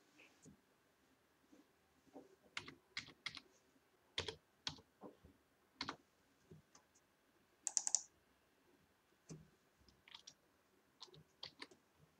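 Computer keys clack in short irregular bursts as a one-time password is typed in during an online Aadhaar address change, the clicks close and fairly quiet against a low background.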